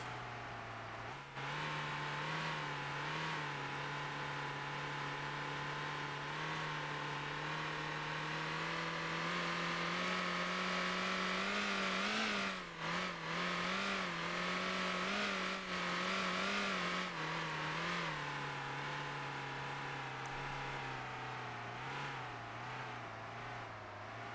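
A bus engine in the Motor Town driving game pulls steadily in first gear, its droning hum holding constant with a brief dip in revs partway through, loud and close throughout.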